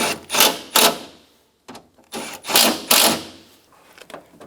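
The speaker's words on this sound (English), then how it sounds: "Install the screws and then snug them down." Screws are driven into a 2012-2016 Subaru front door with a power tool, giving a run of short whirring bursts, several close together, near and fairly loud, with brief pauses between them.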